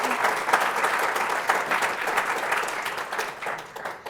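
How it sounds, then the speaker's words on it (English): Audience applause in a room at a healthcare sustainability session, steady clapping from a modest crowd that tapers slightly toward the end. "let's give Wendy a round of applause"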